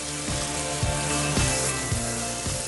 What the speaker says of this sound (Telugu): ఉల్లిపాయలు కొంచెం వేగుతున్నప్పుడు దీంట్లో పసుపు, కొంచెం అల్లం వెల్లుల్లి ముద్ద వేసి కొంచెం ఉప్పు వేసి వేయించుకుందాం